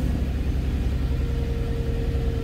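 A Jaguar S-Type's engine idles steadily in neutral just after starting, a close, even low rumble with no talk.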